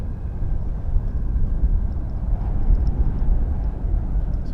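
Airliners from Frontier and Spirit at Dallas Fort Worth airport give a steady, broad jet engine roar at a distance, holding even throughout with no talk over it.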